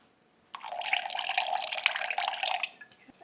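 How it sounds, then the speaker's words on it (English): About two tablespoons of rice wine vinegar pour into a sauce, a sudden close liquid splash and trickle that runs for a few seconds, then tapers off. "we're going to add about 2 tablespoons of this rice wine vinegar"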